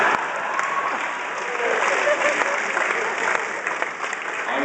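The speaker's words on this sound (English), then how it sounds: "that's the first time that line has ever had a ripple of applause" A ripple of audience applause at a concert, a steady wash of clapping from a crowd that holds evenly throughout, with no one speaking over it.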